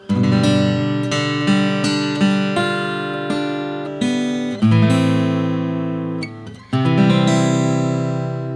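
Slow, plucked guitar chords of "Silent Night", hybrid picked, ring out one after another, each sustained and decaying before the next, played alone with a gentle melodic line on top.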